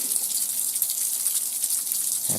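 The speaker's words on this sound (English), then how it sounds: "That's water dripping off the roof on this other side here." Steady splashing of water pouring off a roof nearby, a continuous gushing patter with no pauses.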